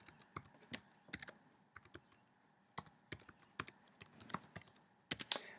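An account number is tapped out on a computer keyboard in a quiet room, with irregular, crisp keystrokes arriving in small clusters and scattered single clicks.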